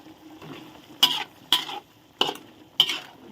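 Crispy fried catfish with Thai eggplant is stirred in a pan: four distinct scraping strokes of a utensil over a low sizzle, close and evenly spaced, without speech.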